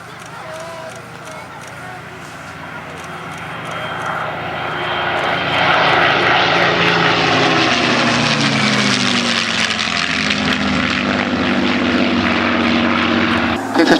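Several P-51 Mustangs flying in close formation at the East Kirkby Airshow swell from a distant drone into a loud, rich piston-engine roar as they pass overhead, sustained to the end.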